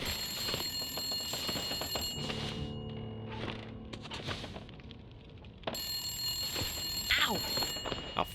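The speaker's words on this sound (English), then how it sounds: "A phone." Telephone bell ringing inside The Long Dark video game, loud repeated rings in bursts, with a break in the middle and steady ambient hum underneath.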